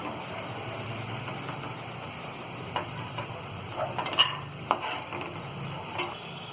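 Peanuts frying in hot oil for a Diwali poha chivda, giving a steady soft sizzle with sharp, scattered crackles and pops that grow more frequent toward the end.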